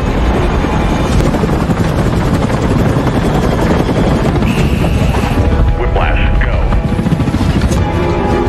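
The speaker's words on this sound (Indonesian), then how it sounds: "terlihat 2 helikopter berisi penuh pasukan reaksi cepat dari tim US Navy Special Warfare Combatant Craft Crewman" Two military helicopters carrying a US Navy special warfare quick reaction team fly in the war film Act of Valor. A loud, steady rotor roar fills the whole stretch, with voices mixed in.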